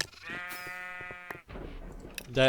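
Sheep bleating in a video game, a single drawn-out wavering bleat lasting about a second, followed by muffled background game noise and a brief louder burst at the end.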